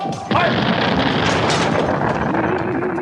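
A comic explosion from a booby-trapped poisoned cake in a sketch show, heard as a sudden loud boom followed by a sustained, dense roar of crashing noise that holds steady for several seconds.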